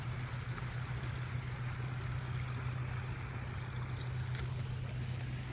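Floodwater pours through a washed-out berm beside Highway 167, a steady, unbroken rushing roar with a hollow low rumble underneath, close and constant, with no voices.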